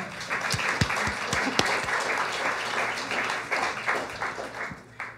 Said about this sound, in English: let's have a round of applause for the folkies here in the festival